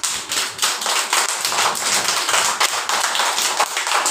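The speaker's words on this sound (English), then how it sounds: "Clap." Rapid, steady run of sharp hand claps from a kids' rhyme clap routine, bright and dense throughout with no talking.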